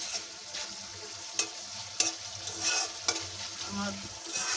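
Meat sautéing in a pan sizzles quietly under a few sharp scrapes and clacks of a spoon on the metal at irregular intervals, with no voices.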